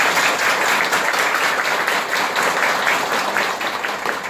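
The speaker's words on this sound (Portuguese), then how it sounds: "uma salva de palmas para os nossos colegas do SAMU" Steady, dense applause from an audience in a municipal council chamber, honouring emergency SAMU staff, loud and sustained for several seconds without letting up.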